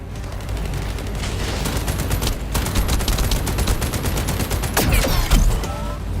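Gunfire from the video game The First Descendant comes as dense, continuous rapid-fire bursts with booms underneath, loud and sustained for several seconds.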